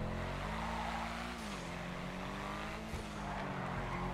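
A sports car engine in GTA Online roars steadily at high revs, its pitch rising and dipping with gear changes, loud and close with a brief tire screech.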